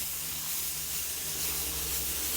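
Squash, onions and dill saute in a hot pan, giving a steady close hissing sizzle that swells slightly and continues without talk.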